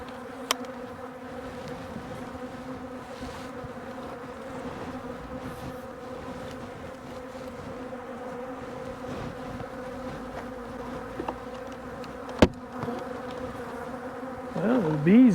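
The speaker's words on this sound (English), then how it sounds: "Well, there's bees in there at least." Bees hum inside a double-box beehive, a steady low drone throughout with small clicks and knocks, rising slightly at the very end.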